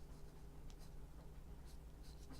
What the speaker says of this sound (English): we're just going to kind of dirty it up a little bit with some pencil marks